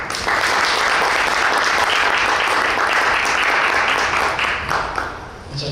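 Loud, sustained applause from an audience at a literary horror reading night, a dense wash of many hands clapping continuously that fades slightly toward the end.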